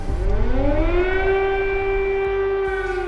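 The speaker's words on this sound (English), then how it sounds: "Air raid sirens have become a daily routine." Air raid siren wailing over Kyiv, a steady loud civil defense tone that rises in pitch and then holds, sustained and alone without voices.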